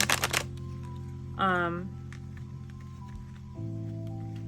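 A quick riffle of tarot cards being shuffled at the start, followed by a brief voiced sound over a low steady hum.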